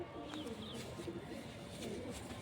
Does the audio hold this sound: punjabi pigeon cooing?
yes